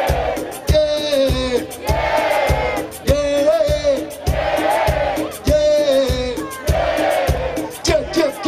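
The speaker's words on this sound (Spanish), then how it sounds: "Si está todo el mundo feliz, todo el mundo dice ¡yeah!" A concert crowd at a show at Barrakes shouts "yeah" together in loud, repeated bursts about once a second, with strong voiced chanting and cheering filling the whole stretch.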